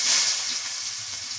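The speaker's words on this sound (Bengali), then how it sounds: "এই তেলের মধ্যে আমি পেঁয়াজ কুচি দিয়ে দিই" Chopped onion hits hot oil in a pan, a brief, loud and steady sizzle heard up close, with no talking.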